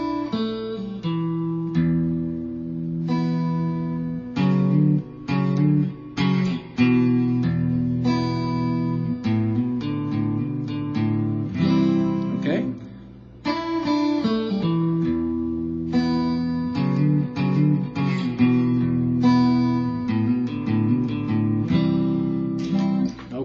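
Guitar playing a riff from a song, with clear, close plucked notes and chords in a repeating pattern with short pauses between phrases, played alone for over twenty seconds.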